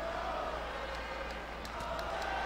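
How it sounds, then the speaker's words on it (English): The crowd at a SummerSlam wrestling event in the WWE 2K video game keeps up a steady, loud roar throughout, a dense wash of cheering with no pauses. "You can hear the crowd here tonight at SummerSlam."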